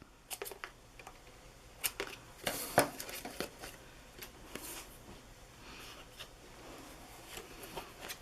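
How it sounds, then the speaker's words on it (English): Paper being snipped with scissors for a pop-up art journal page, several quiet, scattered cuts and rustles close by, with one louder crisp snip near the middle and no talking. "I'm going to cut a little bit off."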